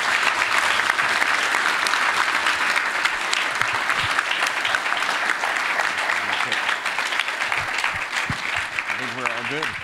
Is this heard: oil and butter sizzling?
no